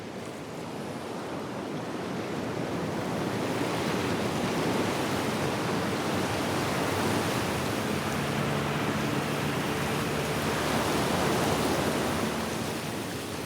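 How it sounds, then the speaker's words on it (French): Steady roar of Pacific surf pounding against the coral reef of the small island of Maupiti, a broad continuous wash of breaking waves that swells gently, with no voices. "Les vagues qui viennent cogner contre le récif, le ressac permanent."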